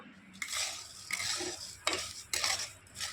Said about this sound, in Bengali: এভাবে নেড়ে নেড়ে ভেজে নেবো